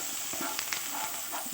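Chopped onion and garlic fry in a pan with a soft, steady sizzle, faint and close, broken by a few light scraping stirs.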